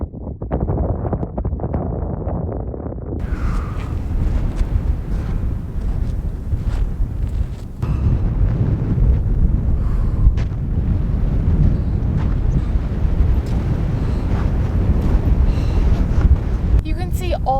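Cold wind at 16,000 feet roars steadily across the microphone, a loud continuous rumble that swells and gusts throughout with no voices.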